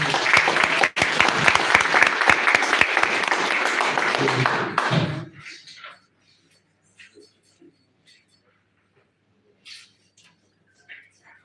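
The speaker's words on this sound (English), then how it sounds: "Yes, another round of applause for Echo Shine" An audience applauds after a third-place prize is announced at a competition, loud and dense clapping for about five seconds that stops abruptly and gives way to faint scattered sounds.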